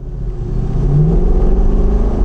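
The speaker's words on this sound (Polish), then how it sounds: "Od samego startu towarzyszy mi tutaj ten przepiękny bulgot." A deep V8 engine of a Lexus LC500 burbles and revs steadily, loud and close, with a low rumbling throb that rises slightly in pitch.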